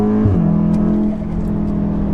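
A 600 BHP methanol-injected Golf R pulls hard under full throttle, its engine note loud and sustained with a harmonic drone that steps down once as it shifts gear, then keeps building.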